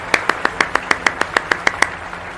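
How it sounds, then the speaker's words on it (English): Applause sound effect played during a livestream, about twelve sharp, evenly spaced claps in a quick steady rhythm, close and clear, ending abruptly. "Applause for the raiders."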